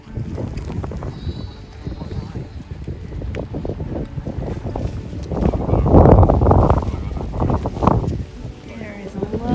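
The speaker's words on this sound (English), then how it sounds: "There is a lot of wind today." Strong gusts buffet the microphone on a rainy hilltop along a hiking trail, a broad rushing roar that surges loudest midway, with someone talking throughout.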